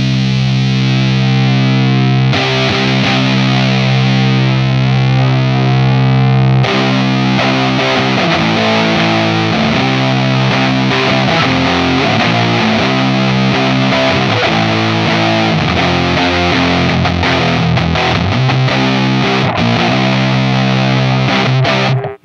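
Electric guitar through a Lantern Manufacturing Sycamore pedal with the mid-range boosted, loud distorted chords ringing out and re-struck several times in a steady, dense wall of sound.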